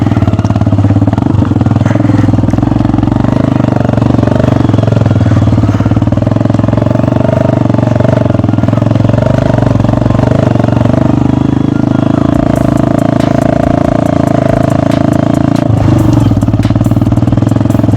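Kick-started motorcycle riding off-road on grassy village ground, its engine chugging loudly and steadily at close range throughout, with brief shifts in pitch as the throttle varies.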